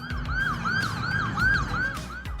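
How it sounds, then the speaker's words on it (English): An ambulance siren wails in a steady rising-and-falling cycle, about five sweeps in quick succession, loud and close over low traffic rumble, with no one speaking. "I've never seen someone dance to the sound of an ambulance"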